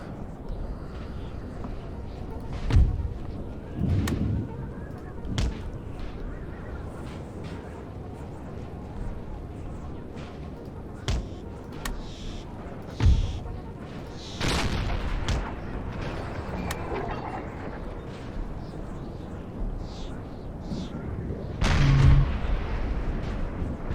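Artillery fires in a video game, a series of deep booms and sharper cracks spaced irregularly over a steady rumbling background.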